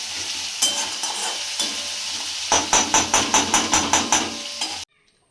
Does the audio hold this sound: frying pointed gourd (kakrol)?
yes